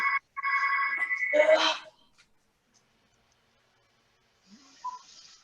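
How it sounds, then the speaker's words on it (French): An electronic telephone rings in a steady tone for a couple of seconds, close and moderately loud, then cuts off into quiet before faint sounds near the end. "Ah, vous avez un téléphone?"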